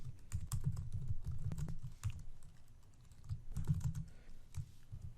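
Quiet typing on a computer keyboard while entering log lines: irregular clusters of soft, close keystrokes with brief pauses between bursts.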